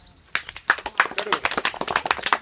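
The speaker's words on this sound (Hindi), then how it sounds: "शिवम के लिए ताली बजाएं।" Children clap for a boy named Shivam at a village community outreach session in Chowki Hafizpur, a quick run of close, irregular hand claps right after a brief spoken lead-in.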